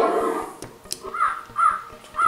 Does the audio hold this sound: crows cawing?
yes